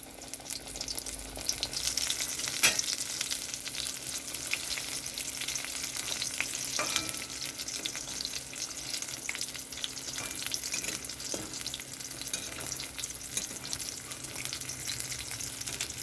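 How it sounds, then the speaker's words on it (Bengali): Eggplant chop fritters fry in hot oil in a wok, giving a steady crackling sizzle with scattered pops and a few louder clicks, fairly quiet and close, with no one speaking. "কড়াইতে তেলটা গরম হয়ে গেছে, এটা ভাজতে ছেড়ে দিলাম।"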